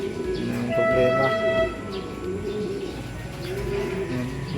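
Pigeons in a loft coo steadily in low, soft repeated calls, with a few brighter chirps from other birds and faint background noise; no one speaks.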